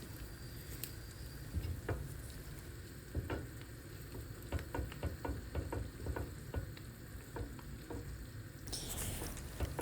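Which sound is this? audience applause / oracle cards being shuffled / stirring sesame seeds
stirring sesame seeds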